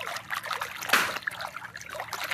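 A small canal running beside a house carries a low flow of water that trickles and gurgles softly and steadily, with one brief louder splash near the middle.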